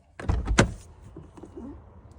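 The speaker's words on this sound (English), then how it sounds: "take the key out, and open the door" A Nissan Altima car door, from the 2002–2006 model years, unlatches with a quick mechanical clunk and click near the start. A soft rustle and faint low noise follow.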